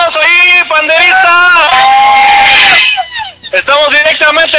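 Crowd of marchers at a Christian glory march in Tecámac shouting and cheering loudly together, a dense sustained roar of voices with a tambourine, continuing without a break across the whole moment.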